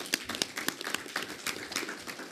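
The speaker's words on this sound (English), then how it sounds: "Let's give them a round of applause." An audience at a hustings meeting in a school gym claps, giving brisk, scattered applause with distinct individual claps at moderate distance.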